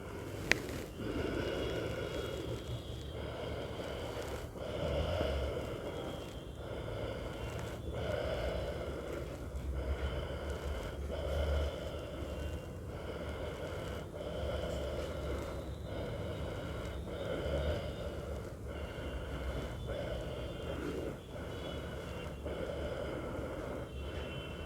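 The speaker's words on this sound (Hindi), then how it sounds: "अब गहरी सांस लेना है।" Slow, deep breathing during the Upveshasan (Malasana) yoga squat, with repeated long inhales and exhales in a steady rhythm, close and fairly loud, with no speech.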